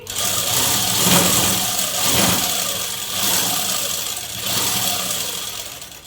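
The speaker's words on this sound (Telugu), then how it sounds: "నేను చేతుల దగ్గర నుంచి వాళ్ళు ఎలా కుట్టారో అలా కుట్టు వేసుకుంటూ అనేది వస్తూ ఉన్నానండి" A sewing machine stitches along the seams of a readymade dress, giving a steady, continuous mechanical whir with gentle swells in intensity and no talking.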